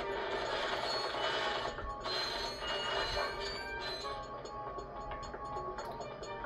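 A train in the 2002 Ratchet and Clank video game rumbles and clatters with a dense, continuous roar and mechanical rattling. The sound is loud and steady throughout, with no voices.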